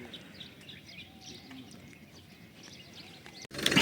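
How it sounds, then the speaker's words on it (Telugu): Birds chirp in the early morning at Gandikota campsite, with faint, scattered tweets over quiet background hiss, ending in a brief loud burst of noise. "మార్నింగ్ బర్డ్స్ అంతా అరుస్తున్నాయి"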